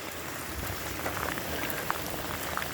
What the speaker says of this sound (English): Look at all that water feeding off into the French drain, shooting down out into the pasture.